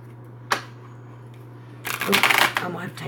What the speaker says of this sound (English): It don't want to let me shuffle good